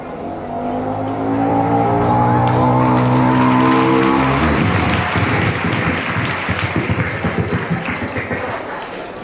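A performer's voice imitates a motorbike drawing closer from far off, a loud, sustained engine-like drone that rises in pitch and then breaks into a rough, sputtering rattle, with no other talk.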